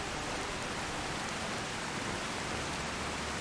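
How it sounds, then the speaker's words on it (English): Steady rain from the E&B weather mod in the Skyrim video game, a constant close hiss of falling drops with no breaks, heard alone without any voices. "Still not a huge fan of the E&B rain."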